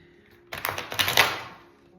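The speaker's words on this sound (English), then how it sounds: "So you hear me shuffling our Moonology Oracle" Moonology Oracle cards being shuffled by hand: a close, papery riffling burst of about a second with several quick flicks, starting abruptly after a quiet start and fading out.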